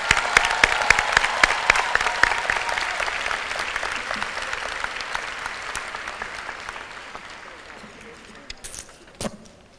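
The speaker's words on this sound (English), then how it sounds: "Let's give them all a round of applause." Loud applause from a crowd at a community college commencement ceremony. The clapping is dense and sustained, thins out toward the end, and is broken by a few sharper claps near the close.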